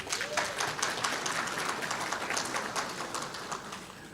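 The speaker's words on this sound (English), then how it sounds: "Could you put your hands together for the retirees as well?" Audience applause fills a staff awards ceremony hall, a dense steady wash of many hands clapping continuously at moderate volume, with no talking over it.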